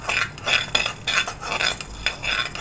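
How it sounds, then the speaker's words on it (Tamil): Cumin seeds warming in a pan while a metal utensil stirs and clinks against it, a steady busy scraping and clinking close by with no talk. "சீரகத்தை போட்டு சூடு மட்டும் ஏற்றிக்க போகிறேன்."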